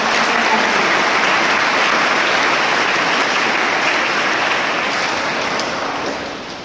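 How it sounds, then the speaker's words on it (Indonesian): Students are applauded at a vocational school guest-teacher event, a loud, dense wash of clapping from a large audience that holds steady, then fades slightly toward the end. "Tepuk tangan untuk para mahasiswa."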